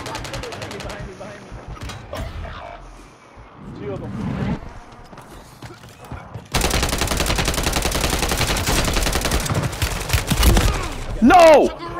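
Rapid bursts of automatic gunfire and LMG rounds in the video game Warzone, dense and loud, rising to sustained fire in the second half, with excited players talking over the shooting.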